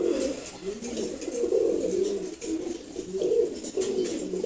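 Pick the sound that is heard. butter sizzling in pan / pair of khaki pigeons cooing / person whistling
pair of khaki pigeons cooing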